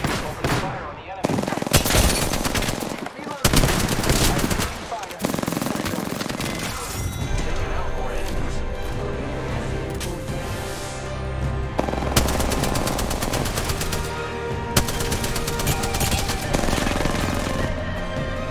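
Heavy automatic gunfire in Apex Legends, including a Spitfire, with long bursts and scattered single shots, loud and close, mixed with explosions and short bits of game voice lines.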